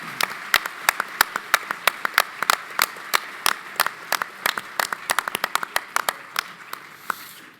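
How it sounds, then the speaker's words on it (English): Audience at the Omaha brunch applauding the standing Markel associates, a fairly steady patter of sharp, distinct claps, moderately close, with no talking over it. "I'll ask you to hold your applause"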